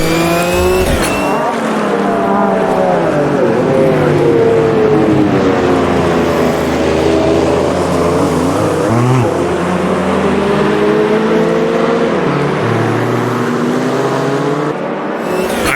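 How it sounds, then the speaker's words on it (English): Race cars in the video game Automobilista 2 roar continuously as a pack of cars goes by, with engines rising and falling in pitch at close range and loud throughout, with brief tire noise and no talk over them. "Oh, there goes a whole bunch of cars."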